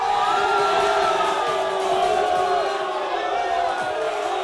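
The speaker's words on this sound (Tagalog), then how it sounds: "Boss LB is hyping up the crowd" Dense crowd at a live fight event in Cebu, loud and continuous, with overlapping cheers and shouts filling the space.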